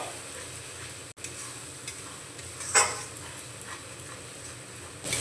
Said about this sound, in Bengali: মশলাটাকে একটু বাদামি করে ভেজে নেব বেশি লাল করে ভাজার প্রয়োজন নেই বাদামি করে ভেজে নিতে হবে